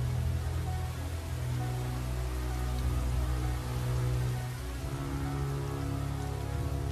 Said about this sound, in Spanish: La lluvia es tan torrencial que con cada gota que cae, el río empieza a subir otra vez.